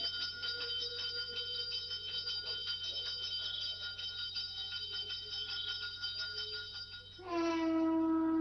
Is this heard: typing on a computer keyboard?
no